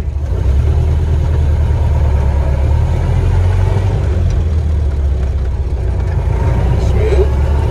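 A 1931 Ford Model A engine pulling in first gear on a cold day, a steady low rumbling drone close by that holds evenly throughout, with no talking over it.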